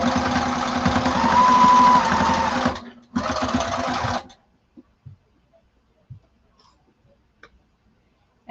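Sewing machine stitching the lining of a duffle bag, a steady loud whir of rapid needle strokes running about three seconds, a brief pause, then another short burst before stopping, followed by faint handling clicks.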